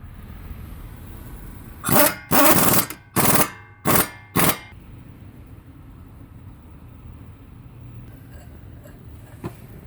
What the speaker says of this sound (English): Now we're going to tighten up the lower strut bolts.